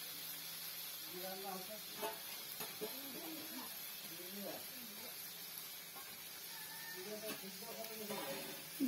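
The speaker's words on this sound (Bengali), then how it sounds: "ভালোভাবে নেড়ে নিতে হবে।" Potatoes and freshwater snails fry in a wok while being stirred, giving a faint, steady hiss and sizzle with occasional scraping, mostly under a person talking.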